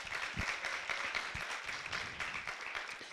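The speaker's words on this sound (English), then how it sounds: "Please give a round of applause to them" A round of applause for embassy staff at a digital communication event in Montenegro: dense, continuous clapping from a crowd, with a few sharper individual claps standing out, no voices.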